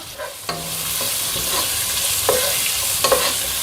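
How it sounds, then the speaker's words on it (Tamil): Finely chopped onions fry in hot oil for a spicy potato gravy with a steady sizzle, broken by a few sharp clicks and scrapes of stirring. "இந்த பெரிய வெங்காயம் பொடி பொடியாக நறுக்கி வச்சுருக்கோம் இல்லையா, அதை போட்டுக்கலாம்"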